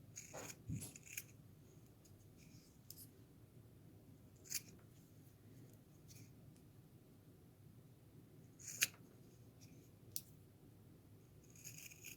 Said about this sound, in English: I can actually go in with my scissors now and I can start trimming it nice and close